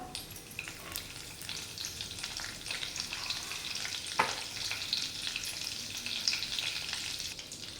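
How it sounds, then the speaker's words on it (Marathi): Cumin, mustard seeds and curry leaves fry in hot oil, a continuous crackling sizzle with small pops and a few stirring clinks, close and unaccompanied by speech. "कढीपत्ता मोहरी जिरं बघा चांगलं परतलेलं आहे"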